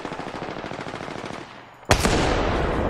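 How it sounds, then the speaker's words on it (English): Rapid automatic gunfire from a video game shooter, a steady rattling burst that breaks off briefly, then a sharp loud blast followed by dense, continuing fire close up. "I'm getting shot at."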